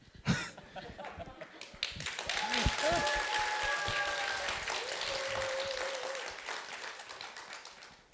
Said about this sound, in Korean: 다시 한번 박수로 환영해 주시기 바랍니다